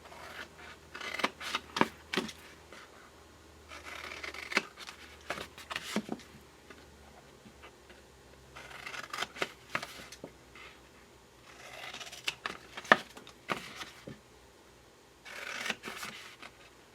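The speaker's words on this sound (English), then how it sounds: "I'm just going to take my scissors" Scissors snip through paper in short repeated cutting strokes, close and fairly quiet, coming in bursts with small pauses between.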